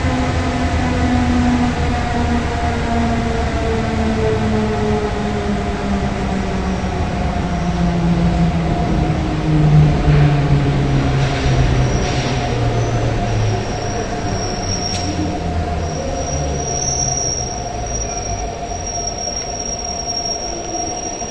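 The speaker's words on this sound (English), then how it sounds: "this cable-pulled train would be called a funicular" Ride aboard a Doppelmayr cable-pulled horizontal funicular shuttle in Istanbul, a loud steady rumble of wheels and cable with long drawn-out squeals rising and falling, and a faint high whine toward the end.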